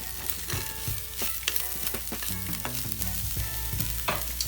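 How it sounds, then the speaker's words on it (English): Garlic and a spice mix dry fry in a pan with a soft, steady sizzle, broken by frequent clinks and scrapes of stirring, with faint music underneath. "So the spices and the garlic have been dry frying"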